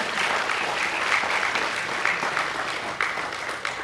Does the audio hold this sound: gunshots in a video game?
no